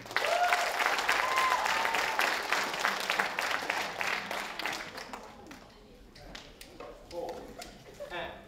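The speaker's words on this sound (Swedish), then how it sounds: "Så ge dem en applåd." Concert audience at a theatre applauds a stage group with many acoustic guitars; dense clapping at first, thinning to scattered claps with brief voices and cheers later.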